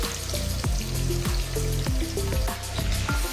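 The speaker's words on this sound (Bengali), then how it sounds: "মাছ ভাজা হচ্ছে" Rohu fish pieces frying in a pan, with a continuous loud sizzle and spatter plus repeated clinks and scrapes of a utensil against the pan, no talk.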